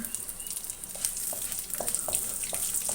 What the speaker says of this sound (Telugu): ఆవాలు జీలకర్ర ఇందులోని ఎండుమిర్చి వెల్లుల్లి కరివేపాకు వేసుకుందాము కొంచెం వేగాలి